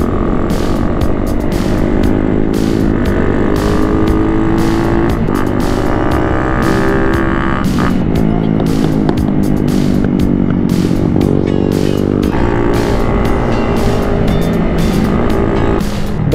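Loud, sustained engine note from a 2010 Raider 150 motorcycle riding on the wet Marilaque road, with repeated rising and falling revs as it accelerates and shifts through gears.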